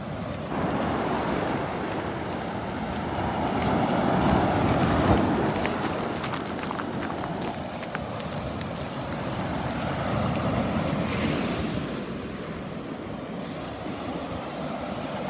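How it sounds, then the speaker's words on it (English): Rough surf rolling in on Vanderbilt Beach, a broad, steady wash of breaking waves mixed with wind buffeting the microphone, swelling and easing over time with no voices. "The waves are still up. A little bit of a rough surf here."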